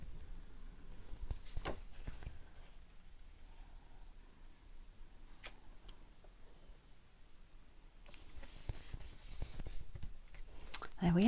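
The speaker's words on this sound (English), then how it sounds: "I will just write something." A pen writes inside a handmade card for someone unwell. The scratching is faint and soft, in short strokes with pauses, and there is low room noise and a little rustling.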